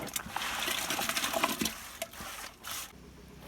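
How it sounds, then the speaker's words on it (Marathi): A jaggery mixture is poured into a barrel while preparing farm jivamrut. It makes a splashing, gurgling liquid pour that runs for about two seconds, then drips and trickles off more quietly. "आपण हा गुळ आता अशा प्रकारे या बॅगरमध्ये आपण ओतत आहे"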